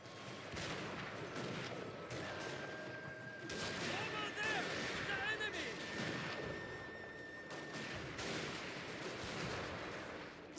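Musket volley fire in the Shogun 2: Fall of the Samurai battle game, a rolling series of sharp cracks and crashes over a busy battlefield din, with voices talking through it.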